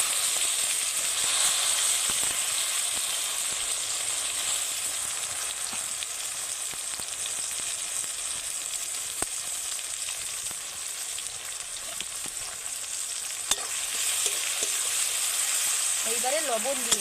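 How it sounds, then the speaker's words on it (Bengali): Chopped onion and tomato hit hot oil seasoned with green chilli, panch phoron and turmeric, producing a loud, continuous, close sizzle with occasional crackles throughout. "এইবার পেঁয়াজ কুচি, টমেটো কুচি দিয়ে দেবো।"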